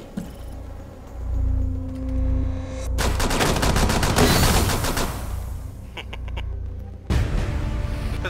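Pistol fire in Rainbow Six Siege on the Kafe map, a quick run of rapid, close shots that bursts in after a quieter, humming stretch and rattles on for several seconds before cutting off.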